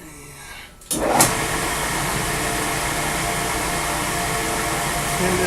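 A metal lathe starts up and runs in back gear, giving a steady, loud mechanical whir and hum that continues evenly after a brief quiet start.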